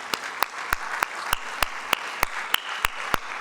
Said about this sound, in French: Applaudissements si vous le souhaitez pour ces images qui viennent de vous être proposées.